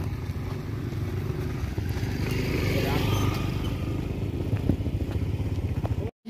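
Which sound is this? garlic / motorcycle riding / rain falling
motorcycle riding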